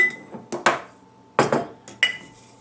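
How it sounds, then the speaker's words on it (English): A measuring cup scoops herbal infusion mixture out of a quart mason jar, giving a few sharp scraping clinks in two short bursts with quiet gaps between. "you're just going to scoop some of your infusion mixture that you made out, and this is 1/4 cup"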